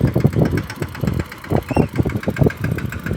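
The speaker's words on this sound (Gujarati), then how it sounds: "હાલો ટ્રેક્ટર વારે છે, મિની ટ્રેક્ટર લઈ લે." A mini tractor engine running close by in a field, a rapid steady chugging throb with a knocking rhythm, with no talk over it.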